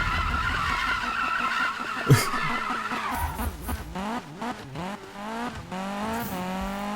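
Continuous tire squealing and skidding with a revving engine, the pitch sliding up and down as a Volvo 242 drifts in Need for Speed 2015, loud and close.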